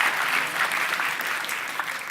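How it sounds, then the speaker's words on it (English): A crowd claps steadily with dense, sustained applause that holds at an even level throughout, with no voices standing out. "Can you give Andy a big round of applause for helping me with that demo?"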